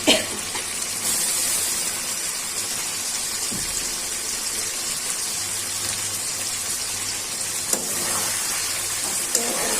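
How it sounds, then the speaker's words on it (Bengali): Chopped tomato pieces tipped into frying country chicken bhuna, a loud rain-like sizzle that swells after the drop and holds steady, with a few small clinks. "আগে থেকে কেটে রাখা টমেটো পিসগুলা ছেড়ে দিচ্ছি"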